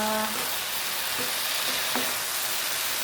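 Mixed vegetables are stirred in a hot pan for a Filipino sautéed vegetable dish, with a loud, continuous sizzle and a few soft scraping strokes.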